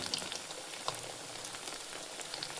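Vadas frying in hot oil over a high gas flame, a faint continuous crackle and fizz with scattered small pops and spits, heard alone and steady throughout.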